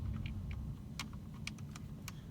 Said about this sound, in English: now you hear the click